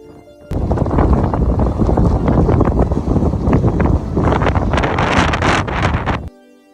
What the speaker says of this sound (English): this is where the wind started to get dangerous